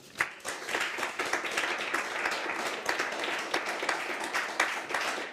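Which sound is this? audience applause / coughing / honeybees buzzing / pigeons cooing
audience applause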